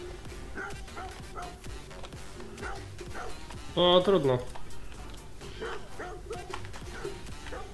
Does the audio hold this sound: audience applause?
no